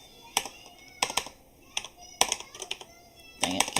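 Typing on a computer keyboard during a card game deck discussion: clusters of sharp, close key clicks arrive in irregular bursts with short pauses between them.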